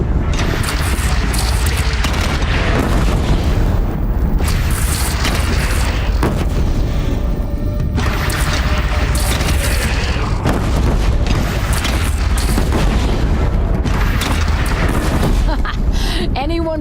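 Cannon fire from the video game Horizon Zero Dawn, loud repeated booms and blasts over dense battle noise throughout, with shouting voices mixed in.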